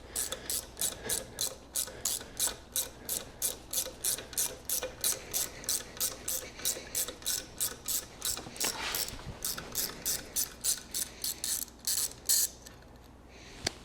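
Ratchet wrench unscrewing a stud during work on a Mk3 Supra drift car's alternator, a rapid even series of clicking pawl strokes lasting over ten seconds, with a brief pause near the end.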